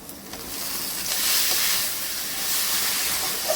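Lentil paste and ash gourd paste dropping into hot oil tempered with asafoetida: a strong, continuous sizzling hiss that swells and settles, close and with no voices.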